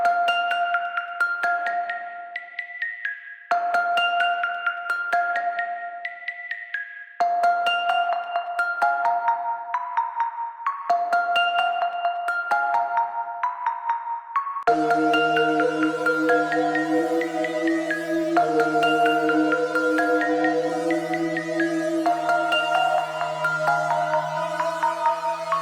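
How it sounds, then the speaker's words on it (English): Layered synth plucks built in FL Studio play a bright repeating melodic phrase, trailed by delay echoes. The pattern starts thin and gapped, then turns fuller with a sustained low layer for the last third. No voices. "So now that I've layered the plucks, it sounds like this."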